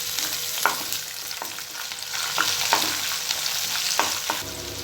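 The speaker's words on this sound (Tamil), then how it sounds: "எல்லாத்தையும் நல்லா வதக்கிக்கோங்க." Chopped onion and fresh curry leaves sizzle steadily as they fry in a pan, with occasional scraping stirs from a spoon over the constant hiss of hot oil.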